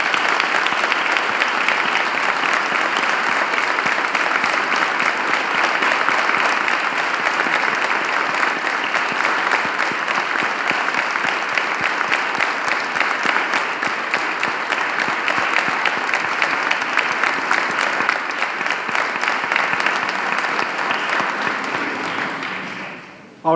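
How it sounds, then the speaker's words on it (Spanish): Congregation applause at a church festival of the Cofradía de la Soledad in Úbeda, honouring Juan and the Virgin: dense, steady clapping from a large crowd that holds for over twenty seconds, then quickly dies away at the end. "Y este aplauso para Juan y para la Virgen."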